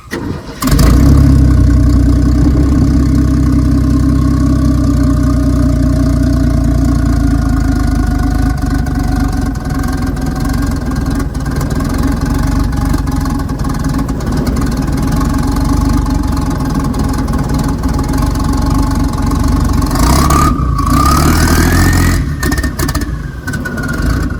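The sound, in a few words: turbocharged 1964 Chevrolet Biscayne engine idling, turbo spooling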